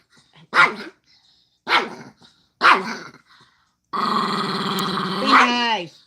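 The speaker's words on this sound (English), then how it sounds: "Meanest dog." A dog barks three times in short, loud bursts, then lets out a long, sustained snarling growl that rises into a whine at the end, close to the listener.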